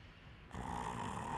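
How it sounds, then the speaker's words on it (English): A character snores in the video game Dark Souls III, a quiet breathy snore that swells into a louder drawn-out inhale partway through, heard alone without speech. "He's just snoring, taking a little sleepy nap."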